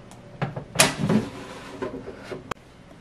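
An air fryer basket is pulled open and slid back in, giving a few close clunks and a scraping slide, the loudest around the middle, followed by a sharp click.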